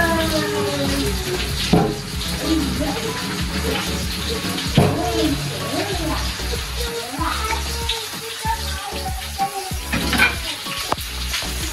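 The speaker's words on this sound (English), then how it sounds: "I'm going to throw off the water now for the fries" Water from boiled fries is poured off at a stove, a loud sloshing, gushing stream with splashes and clatter against the pot and sink.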